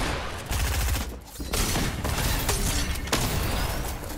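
Dense Fortnite gunfire in a match, rapid overlapping shots and bursts that fill the whole stretch, loud and close with no pauses.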